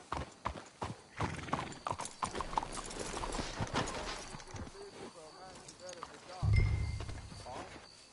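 Horses in the Red Dead Redemption 2 video game clop along on hooves in a quick rhythm, slowing as they are hitched up, with a snort and a whinny near the end and voices talking over the scene.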